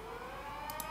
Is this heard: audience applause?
no